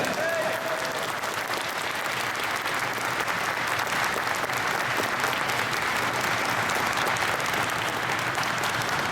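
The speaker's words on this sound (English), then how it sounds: "if I could have a big round of applause for these guys" Steady, loud applause from an audience at a railroad museum, filling the whole stretch without a break as volunteers are honored.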